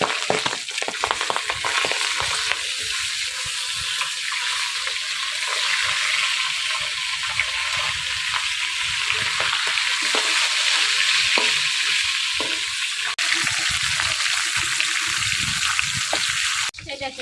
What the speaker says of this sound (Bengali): মাছের মাথা লাল লাল করে ভেজে নিচ্ছি